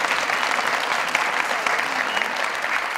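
Studio audience applauding a guest on a talk show, a steady, full burst of clapping with scattered sharper claps throughout and a faint voice underneath.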